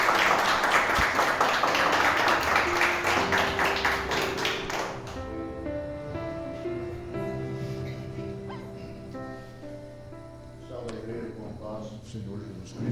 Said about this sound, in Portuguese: E a igreja aplaude ao nome do Senhor Jesus